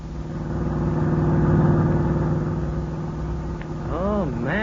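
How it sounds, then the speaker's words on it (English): A car pulls into a ranch as a radio drama sound effect, a low engine rumble swelling and easing, with a wavering tonal sound rising near the end. "As we pick them up, they're just driving into the ranch."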